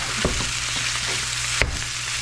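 A little over a pound of ground beef browning in a pan, a dense continuous sizzle up close with a few sharp scraping stirs breaking through, no voices.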